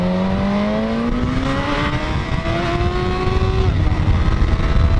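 Suzuki GSX-S1000 motorcycle with its stock exhaust pulling hard under acceleration, a loud, continuous engine note rising in pitch and climbing through gear changes over steady wind noise.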